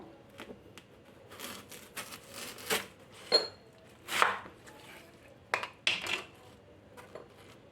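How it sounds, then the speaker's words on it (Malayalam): A knife chops through half of a large watermelon in a series of sharp, irregular cuts, with thuds on the board and a louder strike near the middle, close and clear with no talk. "ഇനി നമുക്ക് മെലൺ ഒന്ന് കട്ട് ചെയ്തെടുക്കാം"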